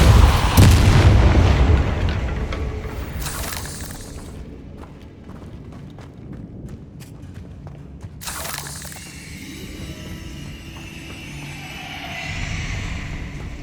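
Spell blasts from Incendio and Depulso casting in Hogwarts Legacy, a heavy booming burst at the start followed by several sharper cracking impacts, loud and close, over a rumbling game backdrop.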